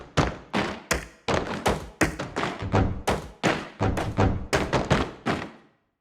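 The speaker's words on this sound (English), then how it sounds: "Stomps." Body percussion stomp samples from the Renegade library, a quick run of about a dozen heavy, close thuds in an uneven rhythm. Each hit is dry and punchy with a short decay, and clean silence follows the last one.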